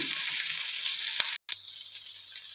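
Mint leaves fry in a pan for pickle with a steady, bright hissing sizzle that continues throughout, broken by one brief gap of silence.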